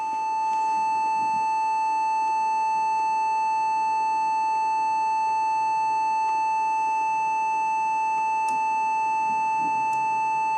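A steady, pure electronic sine wave tone from a DIY 7W audio amplifier holds constant with faint harmonic overtones, a few tiny clicks, and a low hum underneath.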